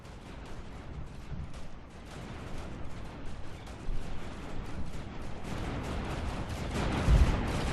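Heavy artillery fire from The Conquerors 3 strategy game, a dense continuous barrage of rumbling blasts that swells louder toward the end.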